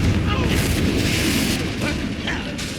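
A Confringo blasting spell explodes in Hogwarts Legacy with a loud, dense rumble that sustains and slowly fades over nearly three seconds. Crackling bursts sit on top of the rumble, and a voice speaks over it.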